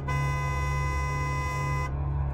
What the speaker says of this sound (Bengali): হর্ন দিয়েও তাকে সরানো গেল না।